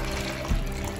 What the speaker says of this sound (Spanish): ahora vamos a poner el agua del té